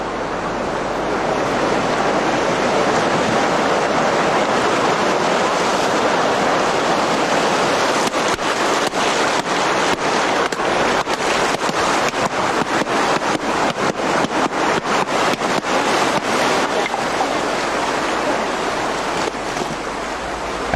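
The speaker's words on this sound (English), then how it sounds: "taken down to the riverbank by Maruja and Adolfina to be rinsed in the running water" Broad steady rush of running river water at a riverbank, loud and continuous throughout, with faint irregular splashes and crackles layered in; no voices.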